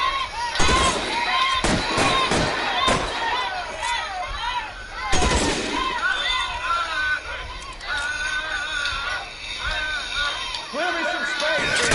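Gunfire during a shootout in the video game L.A. Noire, several sharp shots in quick succession and a later heavy blast, under excited voices and game noise.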